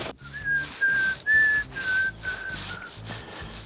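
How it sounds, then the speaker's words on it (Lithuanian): A person whistles a melodic tune in several sustained phrases while painting a wooden fence, with soft brushing or rubbing sounds underneath. "Gali švilpaudamas dirbti."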